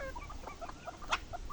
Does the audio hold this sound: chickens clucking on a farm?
yes